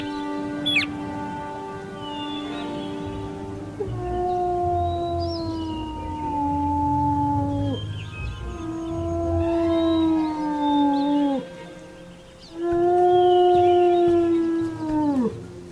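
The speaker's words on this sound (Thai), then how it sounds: "สุนัขจิ้งจอกจึงส่งเสียงร้องขึ้นมาสามครั้ง" A jackal howls three times in separate long, wavering calls that bend downward at the end, loud and close with short pauses between them.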